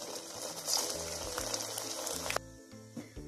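Wheat flour samosas frying in hot oil, a bright, dense sizzle and bubbling that runs steadily, then drops sharply quieter partway through while soft low taps continue.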